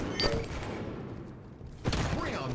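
Gunfire in the Halo 5 video game arena comes as a sharp burst, a gap of muffled noise, then another loud volley of shots.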